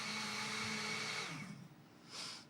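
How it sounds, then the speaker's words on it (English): A kitchen blender whirs loud and close with a steady motor drone, then winds down and cuts off partway through, leaving a brief softer hiss; no one speaks. "3 minutes left on the blender."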